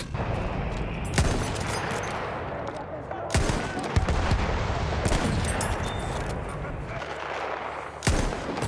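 Rapid automatic gunfire and heavy artillery blasts from a Battlefield 1 match, loud and nearly continuous, with bursts and explosions layered over one another.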